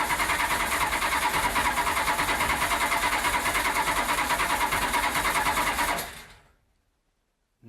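A supercharged V8 in a Datsun 521 cranks over steadily for about six seconds with a rapid, even rhythmic churn, loud and close, then cuts off into silence.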